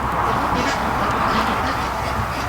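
Large Muscovy ducks in a backyard breeding pen give a steady, loud, dense chorus of honking and hissing calls, close by and continuous with no pauses.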